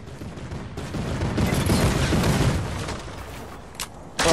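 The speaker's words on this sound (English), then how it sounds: "there's a guy shooting from heck far away." Distant gunfire in a video game: a dense, rumbling spray of shots rolls on for a few seconds, then fades to a few isolated cracks, with no talk over it.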